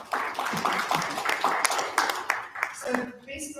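A conference audience at a regional convening on access to justice for persons with disabilities gives a round of applause: brisk, fairly loud clapping in quick, even bursts for a few seconds, with some voices mixed in.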